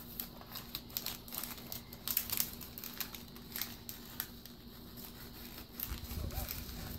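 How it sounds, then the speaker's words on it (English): Paper or sticker backing being crumpled by hand, a steady crinkling rustle with sharp crackles, close by, with a voice and adults talking softly. "Must crumple this well."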